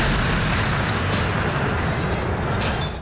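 Firework rockets burst during a street protest in Ecuador, a sustained loud roar of blasts and crackling that fills the whole moment with no voices on top.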